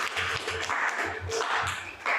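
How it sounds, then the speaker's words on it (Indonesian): Classroom applause after a group presentation in a basic gamelan lesson: several short bursts of clapping from a group of students, fairly close, with brief pauses between bursts. "tepuk tangan"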